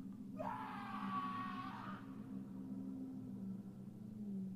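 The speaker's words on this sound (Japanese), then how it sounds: "断末魔の叫びが聞こえる。" A horror video game, Zekkyou Shinin, plays a death scream: one drawn-out wailing cry lasting under two seconds, fairly loud, over a low droning rumble that continues after the cry ends.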